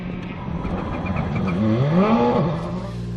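A Subaru rally car on an asphalt stage at the Tour of Epynt roars past with a rising, pitch-shifting engine note, loud and close, swelling to a peak then easing as it goes by.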